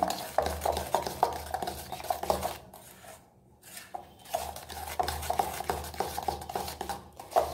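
Butter and sugar being beaten by hand for a cake batter, a steady rhythmic scraping and clinking of utensil against bowl, close and moderately loud, pausing briefly midway before resuming.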